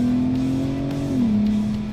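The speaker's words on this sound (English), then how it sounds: "our friend Carson has an aftermarket exhaust on here, which does sound the absolute kitty's titties" A Volkswagen Golf Mk5 R32 engine with an aftermarket exhaust drones steadily at low revs with a loud, throaty exhaust note, easing slightly lower partway through, on a rocky canyon trail.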